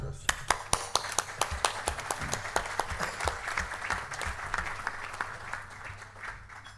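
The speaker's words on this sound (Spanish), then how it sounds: "les doy la bienvenida y un cálido aplauso para ellos" An audience at a public forum claps in welcome for three politicians, starting with sharp, distinct claps that blend into a fuller, quieter patter as it fades, while speech continues faintly underneath.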